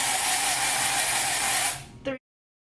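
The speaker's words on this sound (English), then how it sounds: "you're just going to go ahead and spray it on." An aerosol hair color spray hisses steadily and loudly for about two seconds, then cuts off abruptly into silence.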